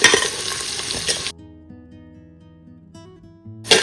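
Onions frying in a pan while beef mandi is prepared, a loud hissing sizzle with stirring that cuts out abruptly into near silence, then returns briefly at the end.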